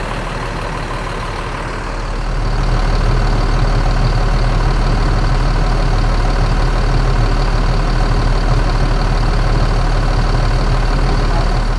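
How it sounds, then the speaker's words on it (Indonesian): A tour bus engine idles steadily and smoothly, a loud, continuous low rumble that swells slightly after the first two seconds and then holds even, with no talking. "Nah, itu dia suara mesinnya. Halus banget suara mesinnya."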